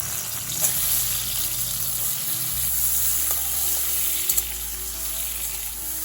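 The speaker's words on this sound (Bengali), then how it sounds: "এই বেগুনটা আমি ভেজে নেব" Eggplant pieces marinated in salt and turmeric fry in hot mustard oil in a pan, giving a steady, close sizzle throughout with a few faint clinks and no talking.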